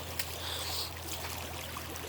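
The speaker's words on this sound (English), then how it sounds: "here, the really nice river." A cold mountain river flows in summer, a steady broad rush of moving water heard close and continuous, with small splashes and gurgles on top and no voices.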